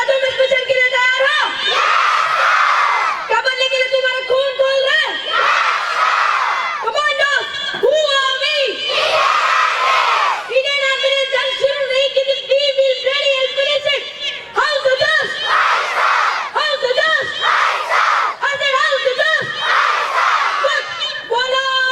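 Audience at a school event cheering and shouting loudly in repeated surging bursts, with children's voices prominent and applause mixed in, sustained and close throughout.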